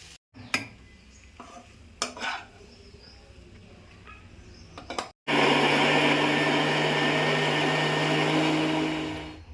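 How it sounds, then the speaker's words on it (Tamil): A mixer grinder starts up after a few clattering knocks, then runs with a loud, steady grinding whir for several seconds before winding down slightly. "சூடான பிறகு மிக்ஸி ஜாரில் போட்டு அரைச்சின்னு வந்துடலாம்"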